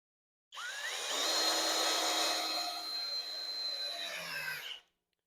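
A Hoto 12V brushless drill set to screwing mode at full power drives a screw into wood with a steady, loud whirring grind that runs for about four seconds, then winds down sharply as the screw seats.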